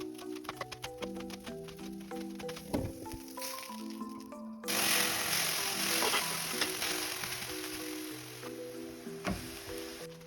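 Mixed vegetables sauté in a pan while greens are cut for a spinach kale quiche, a soft steady sizzle that swells louder midway, with soft music playing underneath and occasional knocks.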